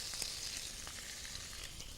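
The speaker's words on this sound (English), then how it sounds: "half a glass of white wine, makes it sizzle when you add the wine" Half a glass of white wine hits a hot pan and sizzles steadily, a close, dense hiss and crackle lasting two seconds with no voices.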